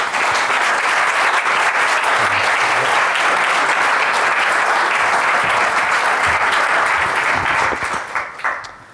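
A lecture hall audience gives sustained applause to welcome lecturer Dr. Peter Dickinson, a dense, even wash of clapping that holds steady before tapering off into a few scattered claps.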